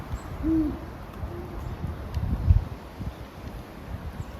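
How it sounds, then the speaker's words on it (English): Northern hawk owls hoot in short, clear calls out in the open, with one note near 0.5 s and a softer one around 1.3 s, heard over faint wind and rustling leaves. "Because these owls are going at it"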